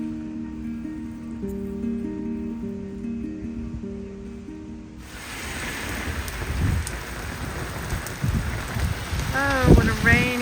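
Heavy rain pours down in a small Portuguese town after a few seconds of soft tonal music cut off abruptly; the downpour becomes a dense, loud hiss with low rumbling thunder swelling near the end.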